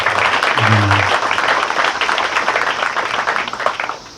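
Audience applause after Coach White's speech at a memorial gathering, a full, steady crowd clapping that gradually thins out, with a short low voice near the start.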